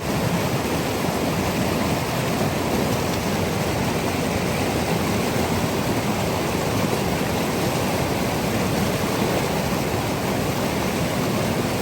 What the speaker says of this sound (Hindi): तो हम लोग अभी इसमें जल भरते हैं।